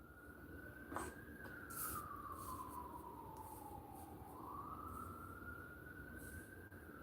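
A distant siren wails, its pitch sweeping slowly up and down in a long cycle, faint but clear over low traffic rumble.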